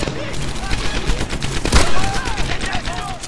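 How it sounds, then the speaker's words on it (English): MG42 machine gun fire in Medal of Honor Airborne's Operation Husky mission: dense, rapid bursts of gunfire run through the whole battle mix, peaking mid-way, with other shots and faint voice-like chatter around it. "the German soldier has a sudden attraction for MG42 and pops up out of cover"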